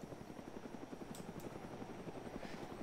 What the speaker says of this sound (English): There's a chopper on the south also.